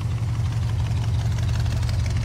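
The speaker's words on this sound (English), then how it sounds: "Around the back, let's hear the exhaust." An all-original 39,000-mile Ford Galaxie 500 idles through its brand-new dual exhaust system, giving a steady, loud, low rumble that holds unchanged for the whole stretch with no talking.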